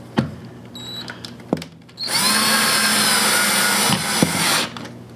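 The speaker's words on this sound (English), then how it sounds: "using the power drive screws, attach the top of the bracket to the floor" A power drill drives screws through a squeak relief bracket into a wooden floor. A few short clicks and bumps lead into a loud, sustained whirring run of about two seconds, then some handling knocks.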